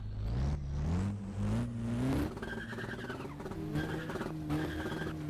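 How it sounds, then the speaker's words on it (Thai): Race car engine in the Roblox game NBR Speed, revving hard and climbing in pitch through quick gear shifts, then dropping into a lower whine with tire squeal, loud and close, no speech. "เสียงรถก็ไม่ได้แตกต่างอะไรแบบ จากคันก่อนๆที่เราเคยขับมาเลย"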